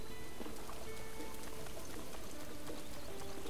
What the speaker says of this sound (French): Toujours il pleut, toujours.